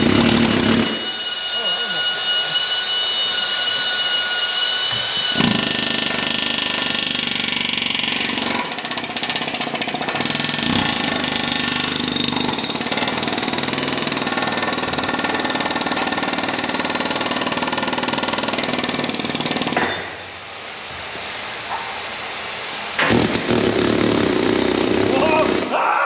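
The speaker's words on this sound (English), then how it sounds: "The air hammer is your friend." A pneumatic air hammer pounds stuck hydraulic cylinder parts in long, loud rattling bursts, dropping out briefly before starting again near the end, with voices talking around it.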